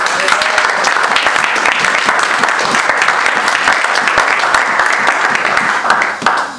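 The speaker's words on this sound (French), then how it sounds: "Applaudissons pour l'évangéliste." A church congregation at an Easter service applauds loudly and steadily, a dense wall of clapping that fills the whole stretch before tapering off at the end.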